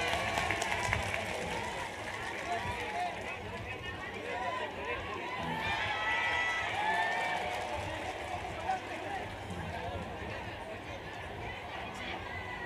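A large audience at an Indonesian religious gathering claps and cheers for a singer on stage, steady dense applause mixed with crowd chatter and voices throughout, moderately loud and continuous.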